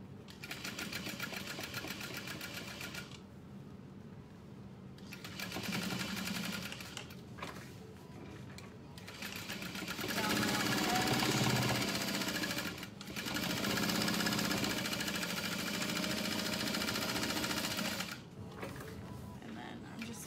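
A sewing machine runs steadily along a satchel seam, loud and close, in long continuous whirring stretches broken by a few short stops, with a voice speaking briefly over it.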